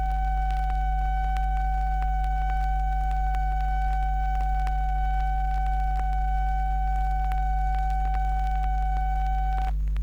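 Steady sine test tone from the left channel of a vinyl test record, played through a budget €15 phono cartridge: a continuous tone held for about ten seconds over a low mains hum, ending abruptly.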